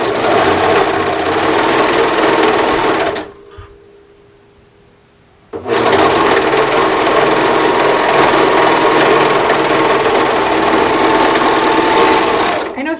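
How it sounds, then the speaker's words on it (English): A serger runs loud and steady while sewing cardigan cuffs, stops for a couple of seconds, then whirs again at full speed for a long continuous stretch. "sometimes I just want to do it quickly and I'll just serge everything"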